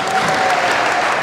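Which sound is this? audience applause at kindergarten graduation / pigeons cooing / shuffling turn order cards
audience applause at kindergarten graduation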